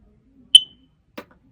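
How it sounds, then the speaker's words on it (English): A single short, high-pitched electronic chirp from a hardwired combined smoke and carbon monoxide alarm at end of life, followed about half a second later by a faint click, then quiet. "I heard my combined smoke and carbon monoxide alarm beeping"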